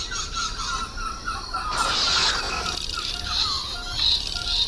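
Exotic jungle birds call in a binaural recording, with repeated high chirps and whistled phrases over a dense, steady forest-like ambience that swells briefly near the middle.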